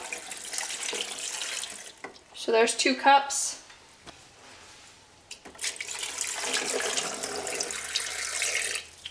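Liquid preserving solution poured over eggs in a container, a gurgling stream with a short splashy burst midway and steadier pouring toward the end, with a voice speaking briefly.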